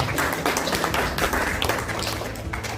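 Audience at an EA50 investment business-plan seminar breaks into applause, a dense patter of many hands clapping steadily for a few seconds with no talk over it.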